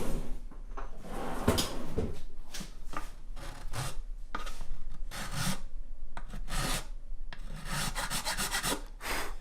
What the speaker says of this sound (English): Actually, I'm going to use a file on that lower section.